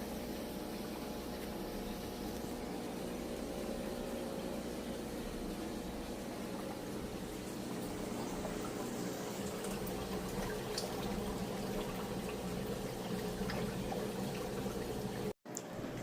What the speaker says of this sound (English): And now he's getting fresh water.